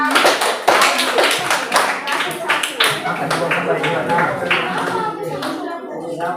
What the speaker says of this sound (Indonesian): Oke, kita beri aplaus dulu.